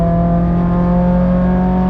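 A Nissan S15 engine on the Nürburgring holds a loud, steady, harmonic drone close to the microphone, revving through a heel-and-toe downshift to third without any voices.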